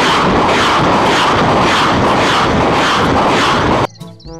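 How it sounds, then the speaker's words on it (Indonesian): A military truck carrying rockets gives off a loud, continuous roaring rush with a pulsing texture that stops abruptly near the end, leaving a few brief tones and clicks. "Mobil truk militer pembawa roket."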